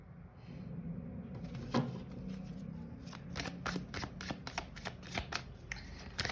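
Tarot cards are shuffled close by, a series of crisp riffling bursts and sharp card snaps that grow more frequent toward the end, with no voice heard.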